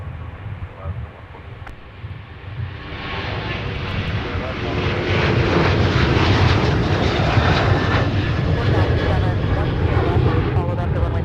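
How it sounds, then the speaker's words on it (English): Jet airliner powered by a pair of GE-NX turbofan engines at Minneapolis–Saint Paul airport, a broad engine roar that swells over several seconds and holds steady and loud, with a voice faintly underneath. "Powered by a pair of GE-NX turbofan engines"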